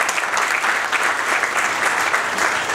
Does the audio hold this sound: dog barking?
no